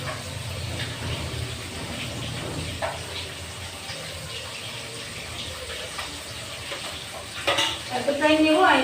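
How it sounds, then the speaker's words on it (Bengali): Yogurt is whisked in a bowl for doi katla, a steady soft churning stir running over a constant background sizzle, with a louder burst of clatter near the end. "তো আমি এখন দইটা ফেটিয়ে নিই"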